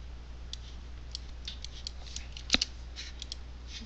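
Small blade or scissor snips cut a hole through a vinyl decal, a scattering of faint, crisp ticks with one sharper click, close up over low background hum.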